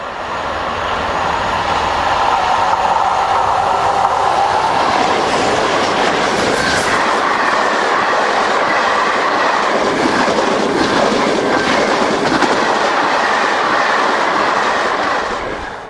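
Two Class 47 diesel locomotives, 47802 and 47712, haul a stock move from Carlisle to Barrow Hill past Scropton: a loud, continuous rumble of engines and rolling wagons with a clickety-clack of wheels, steady throughout with no voices.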